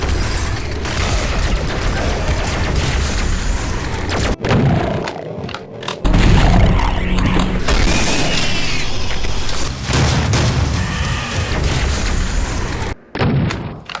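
Heavy double-barrel shotgun blasts in a first-person shooter game: loud, booming shots, some back to back, with roaring tails and brief gaps between them.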